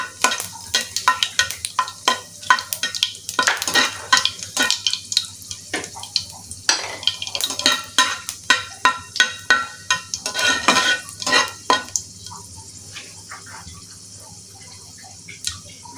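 White and black cumin seeds with dried chilli sizzle in hot oil in a pan, stirred with quick scraping spoon strokes over a steady frying hiss, close up, the stirring easing off near the end.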